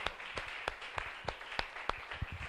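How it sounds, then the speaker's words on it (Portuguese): Congregation at a Portuguese-language church sermon clapping, faint and distant, with sharp claps landing in a quick, regular rhythm. "Pode aplaudir."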